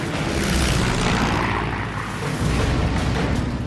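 A WWII P-47 Thunderbolt fighter plane pulls up and dives, its engine a loud, continuous roaring drone that swells and dips slightly, with no talk.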